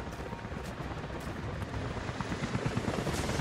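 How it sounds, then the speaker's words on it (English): Helicopter rotors in the video game Rise of the Tomb Raider make a continuous broadband whirring roar that thickens slightly toward the end, with a steady chop beneath a dense noisy wash. "helicopters are headed your way"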